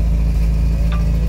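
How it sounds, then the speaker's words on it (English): A truck engine at high idle rumbles steadily and continuously, close by, with a constant throb and no talking; the exhaust needs fixing. "I'll let you guys hear it run when it's not high idling."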